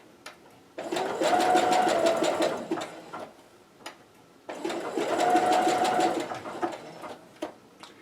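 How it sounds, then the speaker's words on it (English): Sewing machine stitching spandex glove fingers in two loud bursts of rapid, even needle chatter, each lasting a few seconds and separated by short pauses, with faint bird cooing in the background. "lower the presser foot again. Go forward a few stitches, then repeat, lifting and turning, until you've completely rounded the top of the finger"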